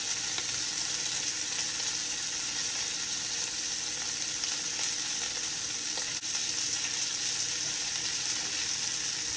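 Asparagus spears sizzle steadily in a hot pan as they are turned one by one, a loud, continuous frying hiss with no talk.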